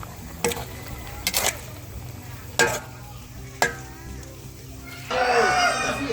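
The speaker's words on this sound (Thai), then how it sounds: "วนหมูขั้วหมูจนเริ่มสุกแล้วนะครับ" Pork for Hmong-style larb frying in a pan at a village gathering, a steady sizzle broken by a few sharp scraping stirs, with a louder hiss building near the end.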